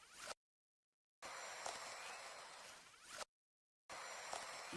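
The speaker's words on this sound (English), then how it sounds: "the bit crusher just makes it kind of sound like zippery" A bit-crushed Polaroid camera effect gives two harsh, gritty zipper-like bursts, each about two seconds long and separated by dead silence, sounding close and processed.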